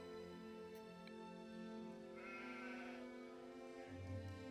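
Several sheep bleat in overlapping calls over a steady farm background, voices rising and falling close by with one deeper bleat near the end.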